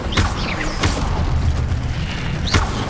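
Incendio fire spell cast in Hogwarts Legacy, a loud roaring whoosh with repeated booming bursts about every second or so, under steady rumbling game ambience.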